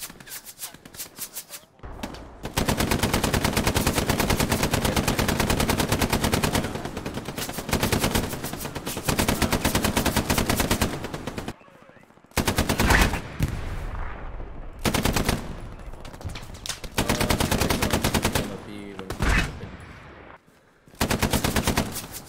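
Long bursts of automatic machine gun fire in a realistic shooter game, loud and close, sustained strings of rapid shots broken by short pauses and a few brief gaps of quiet, with no talking.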